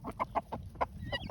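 Several short clucks from a chicken kept in a farm enclosure, arriving in a fairly regular rhythm, close by and moderately loud, with a soft fowl call near the end.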